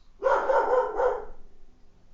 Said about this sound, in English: That'll be the two dogs down the road,